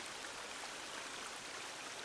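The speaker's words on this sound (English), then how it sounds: "Bottom of the waterfall." A waterfall in the survival video game The Forest gives a steady, dense rush of falling water, even and unbroken, fairly quiet and with no voices over it.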